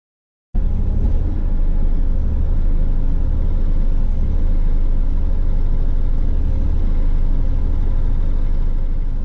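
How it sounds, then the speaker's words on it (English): A 2020 Bobcat E42 R2-Series mini excavator stacks logs during a winter cleanup, its engine a loud, unbroken low rumble and drone that holds steady throughout. "Stacking some logs here, making a little pile that I'm going to pick up with the Defender."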